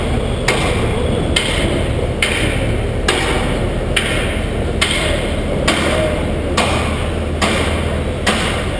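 Hammering on a construction site, about ten evenly spaced metallic strikes roughly once a second, heard from a distance over heavy, steady wind-like rumble and noise.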